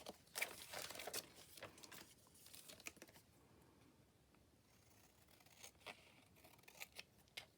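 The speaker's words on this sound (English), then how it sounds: "So what I might do is cut this out." Scissors cutting out a sticker from a scrapbook paper sticker pack, close, quiet snips and crisp paper rustles, busier at first, then sparse crinkling and a few more sharp cuts.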